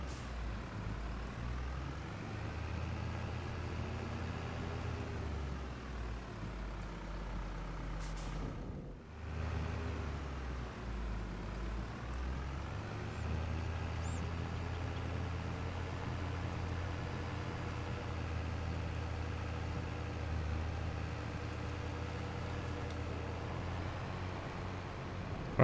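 Steady low tractor engine drone from Farming Simulator 22, running continuously with a brief dip partway through, the rig fitted with a front stump grinder and a rear winch.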